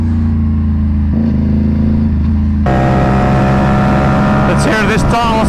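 A tuned Aprilia RS457 motorcycle with a Gabro map and an SC Project S1 exhaust drones loudly at steady revs. It then jumps to a harsher, louder note and rises with revving near the end.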